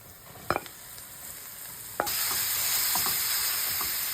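Meat hitting a hot frying pan for a sharp sear, with a brief clatter and then a steady, loud sizzle that continues to the end, stirred now and then.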